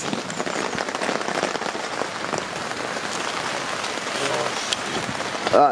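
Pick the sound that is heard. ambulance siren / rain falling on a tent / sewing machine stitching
rain falling on a tent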